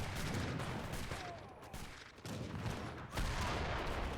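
Cannon fire in the video game Age of Empires 3: a dense, noisy burst of booming shots and crackling impacts, several blasts in quick succession at fairly low level.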